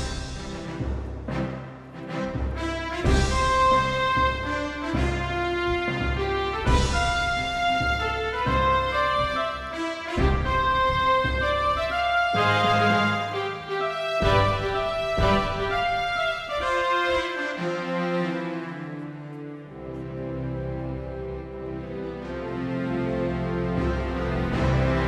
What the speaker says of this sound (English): we can get great expressive sounds like this orchestral patch